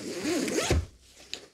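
A zipper on a motorcycle riding bag is pulled open in one quick, close rasping stroke, followed by a brief quiet and a small click.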